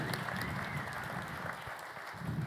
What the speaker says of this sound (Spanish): Pueden aplaudirme más, ¿eh?